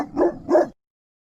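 A dog gives two quick, loud barks close by, then falls silent.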